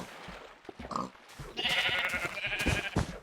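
Sheep bleat in the early Minecraft alpha build while being punched for wool, a short nasal bleat followed by a louder, sustained bleating cry over soft game noise.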